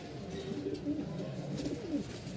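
A pair of pigeons at a market stall in Mirpur-1, Dhaka, cooing in soft, repeated throaty phrases, close and steady over a low background hum.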